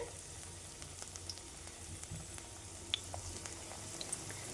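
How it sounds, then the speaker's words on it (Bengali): Semolina pakoras deep-fry in hot oil, giving a soft, continuous bubbling sizzle with scattered small pops and crackles heard up close. "এইভাবে পুরো পকোড়াগুলো আমি ভেজে নেবো"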